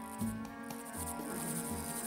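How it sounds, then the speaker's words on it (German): A locust swarm sound effect in a retelling of the Egyptian plagues: a dense, continuous insect buzz and chirring held under a sustained musical drone, moderately quiet throughout. "Und dann kamen die Heuschrecken."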